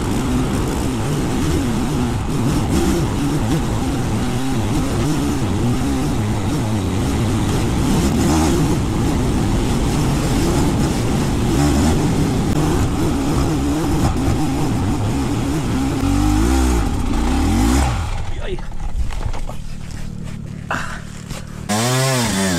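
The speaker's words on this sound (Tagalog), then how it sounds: "Sarap pakinggan ng ano makina, no?" A motorcycle engine on the Mt Kanapuin mountain trail in Antipolo, Rizal revs loud and close, its pitch rising and falling in sustained throttle bursts, then cuts back sharply near the end as it eases off.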